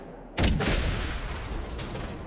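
A sudden explosion booms in the video game Generation Zero, a sharp heavy blast followed by a second burst and a long rumbling tail that fades slowly.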